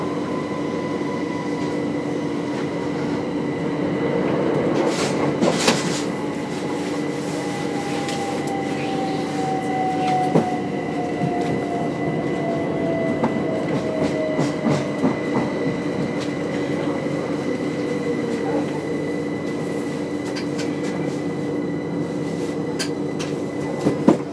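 A Southern Railway train on the Brighton to Chichester line rolls toward Chichester station, a steady interior rumble with faint clicking wheels, a slowly falling whine and occasional sharp knocks throughout.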